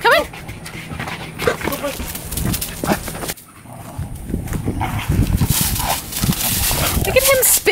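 Puppies pant and scuffle nearby in quick, irregular bursts of breathing and movement, while people talk over them throughout.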